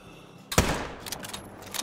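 A single loud hunting rifle shot fires in theHunter: Call of the Wild, a sharp close blast followed by a short echoing tail and faint rolling reverberation.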